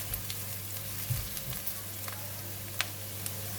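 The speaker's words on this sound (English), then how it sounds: "And continue to stir fry until the onions and chili become slightly soft." Chopped onions and green chili stir fry in a pan, giving a steady, close sizzle with a few soft stirring knocks and no talk.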